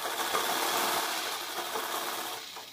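A sewing machine stitches a bra-cut blouse sleeve around the shoulder. A continuous close motor whir runs steadily and eases off at the very end, with no voices.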